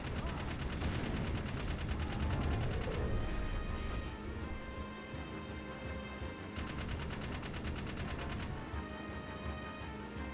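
Rapid gunfire in the Jak 3 video game rattles in two bursts over a loud, dense game soundtrack, with the shots standing out sharply against the music.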